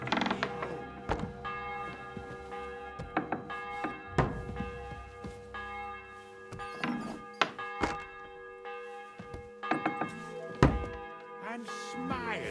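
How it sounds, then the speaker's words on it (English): A church bell tolls in the video game Kingdom Come Deliverance II, its resonant strikes ringing out repeatedly with long humming decay, mixed with dull wooden thunks and clatter nearby. "The bell's ringing for Hans the 5th time."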